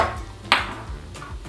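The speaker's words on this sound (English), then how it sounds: "So let's get this mixed together." A spoon stirs diced tomatoes, onions, jalapenos and cilantro with lime juice in a bowl, with a few short clinks and scrapes against the dish and one sharper tap partway through.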